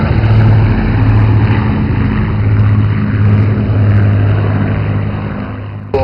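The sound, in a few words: Boeing B-17 Sally B aircraft engines at air show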